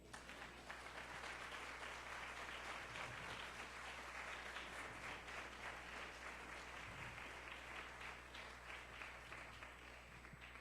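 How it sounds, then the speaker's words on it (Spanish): A church congregation applauding during a sermon, a dense, steady wash of many hands clapping that holds evenly throughout, heard at a distance at low level. "¿Cuántos dan un aplauso al Señor por eso?"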